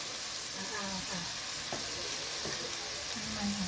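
Beef stir-fried with curry paste in a pan, a steady sizzle and frying hiss running throughout with occasional stirring scrapes and utensil knocks, fairly close and alone.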